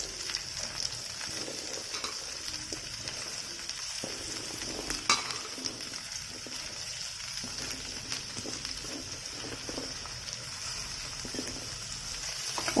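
Boiled, salted sweet corn kernels fry in butter with a steady, even sizzle and occasional stirring scrapes, close and continuous throughout with no talking.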